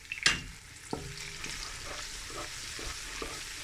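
Onions fry with ginger and garlic in a pot for chickpea pulao, giving a steady, soft sizzle with a few clinks and scrapes from stirring. There is no talking.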